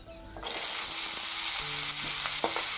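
Potatoes fry in hot oil with dried chili and nigella seeds. A loud sizzle bursts in right after a brief quieter moment and then holds steady, broken by a few light scrapes and clinks.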